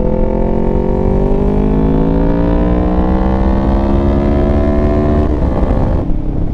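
A motorcycle fitted with TST V2 stacks accelerates hard in gear, its engine note climbing in a long loud continuous sweep, then cutting off briefly near the end.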